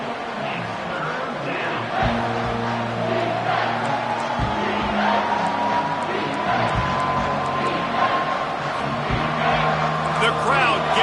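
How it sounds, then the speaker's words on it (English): Football stadium crowd in a video game roaring steadily in support of the defense during a red-zone stand, a broad sustained cheer under ongoing commentary and layered chant-like tones. "The crowd getting behind this defense as they try to get a stop in the red zone."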